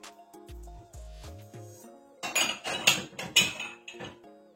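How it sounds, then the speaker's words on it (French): Cutlery and dishes clattering and clinking as a kitchen drawer is emptied, a few soft knocks first, then a dense burst of close metallic rattles and chinks that settles into a last clink. "Désolée pour le bruit des couverts."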